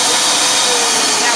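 Standard-model Vitamix blender running in a kitchen, a loud, steady, high-pitched motor whir filling the short stretch without pause, close by.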